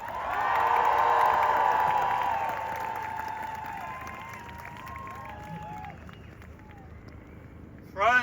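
A crowd at a London ceasefire protest cheers and applauds a speaker being welcomed to the stage. The cheering starts loud, then slowly fades to scattered whoops and clapping, and a short burst of noise comes right at the end.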